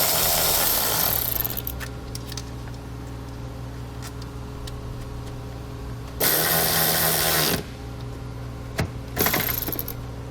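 A power tool drives a 10mm nut back onto a tail light stud of a 2015 Kia Optima, with two or three loud whirring bursts over a quieter background of small ticks and clicks, close up and without talking.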